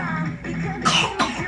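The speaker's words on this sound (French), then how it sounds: "bah quand on crie, on tousse" Two quick, rough coughs close by from someone who has just been shouting while singing, the second cough sharper than the first.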